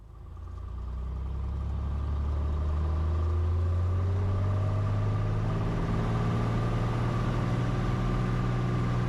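A 2022 Cessna 182 Skylane's piston engine spools up to full takeoff throttle on a rainy runway, a loud, steady drone rising over the first second and then holding strong, with no voices.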